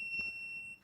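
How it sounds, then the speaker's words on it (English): Bosch industrial power tool giving off a high, steady electronic beep that holds for most of the moment before cutting off, quiet against a low background. "you might be hearing that little beep noise"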